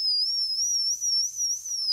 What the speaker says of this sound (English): it'll actually whistle.